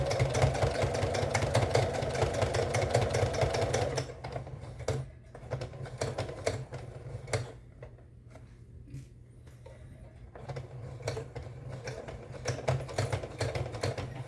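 Home sewing machine stitching a jeans zipper, a steady loud mechanical whir for the first few seconds, then stopping to quieter handling clicks and rustles of fabric and presser foot, with short bursts of stitching resuming near the end.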